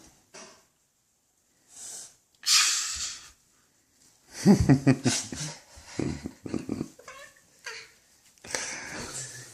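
A voice imitates sneezes after sniffing flowers, giving several breathy, hissing bursts mixed with talk, a child's babble and a few snorts, all close to the microphone.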